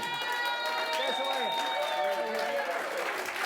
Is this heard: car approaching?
no